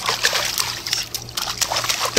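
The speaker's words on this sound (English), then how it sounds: "Don't splash water on me." Water splashing playfully at close range in a family setting, several quick broadband splashes and splatters in irregular bursts, with a steady low hum underneath and faint voices nearby.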